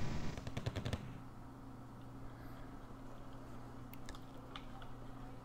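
Gunfire tears into motorized infantry units in a strategy video game, a quick burst of machine-gun rattle followed by fainter, scattered distant shots and low battlefield rumble, with no talking.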